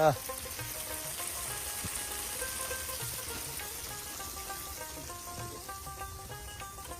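Pieces of baim eel fish drop into a pan of fried onion and chili with a brief splash, then a soft, steady sizzle continues at moderate distance.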